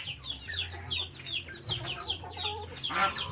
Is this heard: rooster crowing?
yes